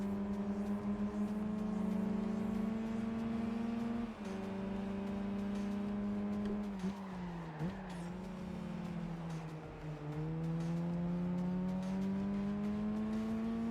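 A Lupo Cup car races around Tsukuba in Gran Turismo on PSP, the engine holding a loud, steady buzzing note, then dropping sharply a few times as the driver lifts or shifts before pulling up again.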